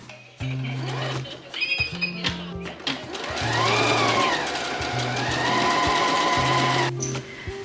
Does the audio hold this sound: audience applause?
no